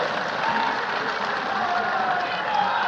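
A crowd at a political rally in Bihar claps in dense, steady applause, loud and unbroken throughout.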